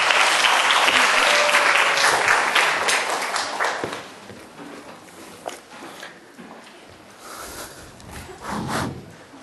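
An audience at a Korean exam-prep lecture applauds to welcome a teacher. The clapping is dense and loud for about four seconds, then breaks into scattered claps, taps and shuffling.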